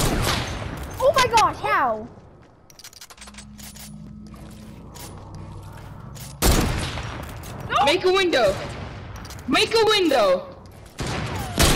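Gunfire in a sniper battle video game, several sharp shots and bursts in separate clusters with quieter mechanical stretches between them. Voices talk and exclaim throughout.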